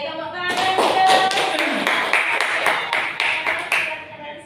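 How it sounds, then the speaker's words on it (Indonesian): An audience claps together after an Indonesian poetry recital at a school event, steady, close applause with sharp individual claps throughout. "Tepuk tangan dong"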